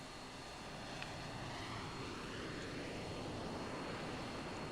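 Jet fighters, F-16s, taxiing and taking off in a flight simulator game: a steady, loud engine roar that holds broadband and constant, with no voices over it.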